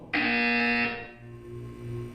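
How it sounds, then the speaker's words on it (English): A loud electronic buzzer from the video game Portal 2 sounds once, a steady harsh tone lasting under a second that cuts off abruptly, followed by a low hum. "You will hear a buzzer. When you hear the buzzer, look down at the floor."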